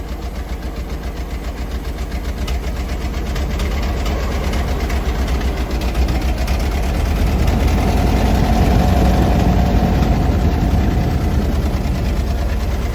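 The engine of a 1925 Model TT fire engine running in low gear gives a loud, steady, close rumble that grows slightly heavier as it goes, with no voices.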